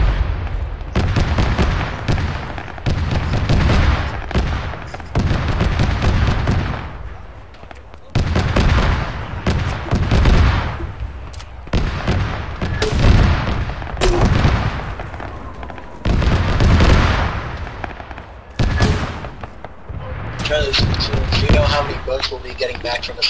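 Mortar fire in the Arma 3 video game: repeated heavy booming blasts, one after another, loud and close, with faint voices now and then between the impacts.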